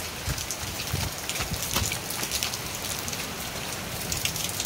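Steady rain falls and patters on surfaces during a trip home, a dense, even wash of drops with a few louder splashes, moderately close and with no voices.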